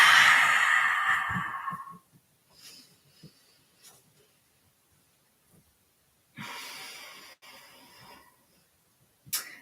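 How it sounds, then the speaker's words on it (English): A person breathes out hard through the mouth with the tongue out, a loud breathy rush lasting about two seconds up close, followed by quiet and later softer breaths. "Tongue out, audible exhale."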